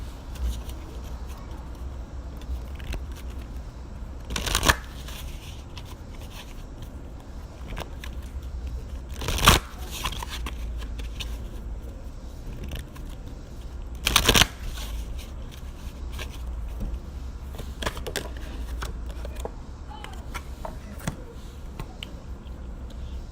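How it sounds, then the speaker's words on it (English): Someone shuffles an Angels, Gods, and Goddesses oracle card deck in a quiet room, with soft repeated riffling and three sharp, louder card flurries spaced several seconds apart. "I'm going to pull a card from the Angels, Gods, and Goddesses Oracle card deck"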